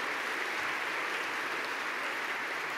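Audience applauding at the opening of a conference, a steady, fairly faint wash of clapping that holds evenly throughout with no voices on top.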